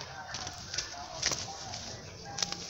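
Chickens clucking on a Brazilian backyard farm where a rooster and hens are kept, with soft scattered clucks at moderate distance over a quiet outdoor background.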